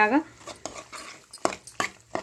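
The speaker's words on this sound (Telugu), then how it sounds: "ఇలా కలిపేసుకోవాలి." A spoon stirring and scraping through amaranth leaf and green pea curry in a pan, with a few clinking metal knocks against the pan, following a brief bit of talk at the start.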